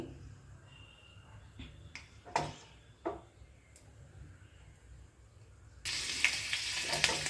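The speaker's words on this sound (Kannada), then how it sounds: "ಬೆಳ್ಳುಳ್ಳಿನ ಚೆನ್ನಾಗಿ ಫ್ರೈ ಮಾಡ್ಕೋತಾ ಇದ್ದೀನಿ" Garlic fries in hot oil for a tempering. Sharp crackles and pops break out here and there over a low sizzle before a sudden loud, continuous hiss takes over near the end.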